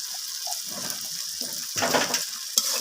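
Turmeric, red chili and cumin powders sizzling in a pan with oil, a soft constant hiss broken by scraping stirs and a sharp clack near the end, close and without talk.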